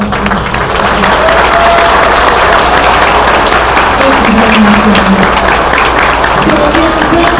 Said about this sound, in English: I just like you to show your appreciation for Dinah